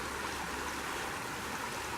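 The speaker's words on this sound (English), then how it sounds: "feeder stream coming into Wolf Creek here. I love this bend in the little rapids." A small feeder stream running into a creek over a bend of little rapids, a steady, close rushing and splashing of water that fills the whole moment without variation or voices.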